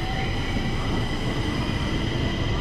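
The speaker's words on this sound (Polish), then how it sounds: "Sztokholm ma świetnie działające, dobrze zaplanowane metro." Stockholm metro train in an underground station, a loud continuous rumble and rushing roar of cars and wheels on rails with faint squealing tones, filling the entire moment without a break.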